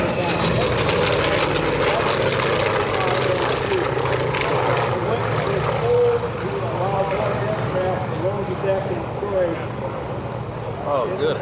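A Grumman twin-engine COD warbird flies low past an airshow crowd with smoke on, its propeller engines droning loudly and steadily as a commentator talks over the roar.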